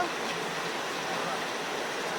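Heavy rain pours down steadily over a village at Padhanpali, a dense, even hiss that stays constant and fairly loud throughout, with no voices.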